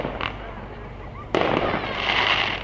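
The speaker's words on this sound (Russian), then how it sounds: "Салют на пляжу." Fireworks going off over a beach at Alakol Lake in Kazakhstan, a distant crackling burst that swells and rumbles across the shore amid background crowd murmur and faint voices.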